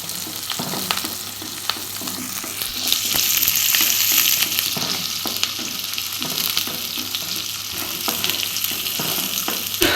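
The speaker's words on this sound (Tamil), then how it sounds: "வெங்காயம் நல்லா இந்த அளவுக்கு நல்லா வதங்கிடுச்சு." Onions fry in a pan for a brinjal and field bean curry, giving a loud, continuous sizzle broken by the clicks and scrapes of stirring, with no voices.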